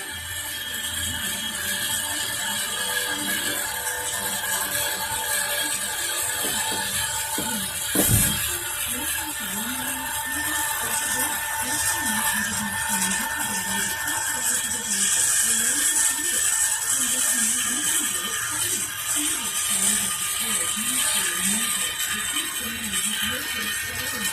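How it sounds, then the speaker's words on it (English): A Yaesu antenna rotator motor, sitting on a bench rather than mounted on a tower, turns steadily toward north with a continuous whirring, grinding hum, fairly close and even in level, with a brief click near the middle. "so you can actually see the performance of the rotor"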